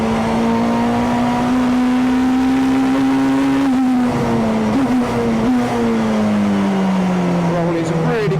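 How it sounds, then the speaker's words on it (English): Onboard a 1996 Honda Accord Super Touring race car lapping a circuit, the engine drones loud and steady, its pitch rising slowly, then dipping and wavering through shifts and a corner, while someone talks over it. "Take you on a lap round Brams, the 1996 Honda Accord Super Tourer."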